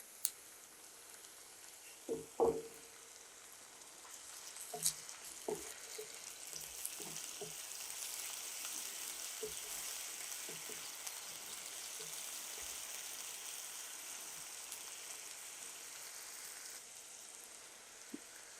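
Ginger garlic paste frying with onions in a pan: a few sharp clatters at the start, then a soft, steady sizzle close by and fairly quiet.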